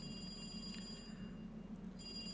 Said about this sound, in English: Suddenly, the phone rang.